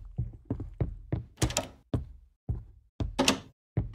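A door shutting in an indie horror game set in an apartment, heard as a series of close, dull thunks and knocks with short sharp bursts between them, no voices over it.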